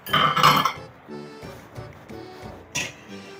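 Chocolate muffin batter being mixed in a bowl, with a loud clattering burst of utensil against the bowl, then softer scraping and a final clink.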